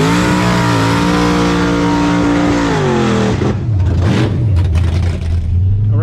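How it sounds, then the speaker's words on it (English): A blue and white Foxbody Ford Mustang race car on big tires revs hard, its loud engine climbing in pitch, then dropping off and settling into a rough, throaty idle. "it sure looks and sounds like a race car."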